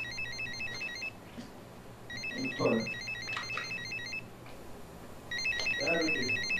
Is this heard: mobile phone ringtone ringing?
yes